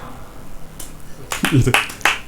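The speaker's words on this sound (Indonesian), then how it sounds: "Ngapain kok tepuk tangan?" A few hands clap together in a short, uneven burst of sharp, close smacks, mixed in with indistinct talking in a room.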